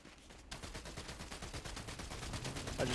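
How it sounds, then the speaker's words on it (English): Rapid gunfire in the battle royale game Fortnite, a fast stream of shots at moderate distance that kicks in after a brief quiet start and carries on steadily, with no voices. "I think they're shooting over here"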